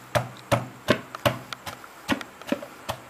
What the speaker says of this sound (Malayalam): ഞാൻ ഈ ചെറിയ കല്ലുകൊണ്ട് ഇതിനെ മാഷ് ചെയ്യാൻ പോവുക